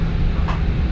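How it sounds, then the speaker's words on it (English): Steady low engine drone of a MAN ND323F double-deck bus, heard from the top deck, a constant rumble with road noise and no voices. "from the top deck, you can still hear that engine pretty well"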